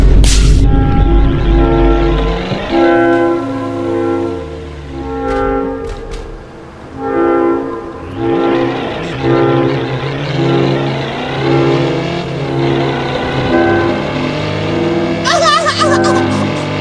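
An engine drones and revs in the mobile driving game Car Parking Multiplayer. The steady, gliding tones rise and fall with acceleration throughout, loud and continuous, with brief clicks near the end.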